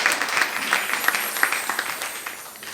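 Members of a church congregation applaud for a sister's life, their clapping steady and moderately loud with a few sharper individual claps standing out, slowly easing off toward the end.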